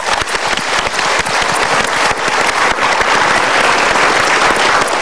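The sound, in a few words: studio audience applause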